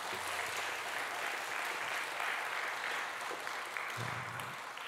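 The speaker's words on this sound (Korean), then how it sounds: "저희 두 사람 결혼 다시 한번 박수로 축복하겠습니다." A congregation applauds the newly married couple at a church wedding ceremony, continuous dense clapping that holds steady for about five seconds at moderate distance.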